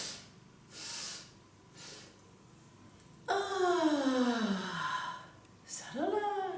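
Deep breathing from a guided slimming breathing exercise. Soft breaths come first, then a long loud exhale in a rush of air, and a second strong breath follows near the end.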